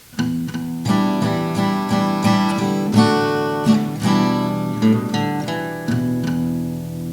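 An acoustic guitar plays the plucked, rhythmic intro to a song, with strummed chords, light palm muting and repeated open E bass notes, loud and close, no voices.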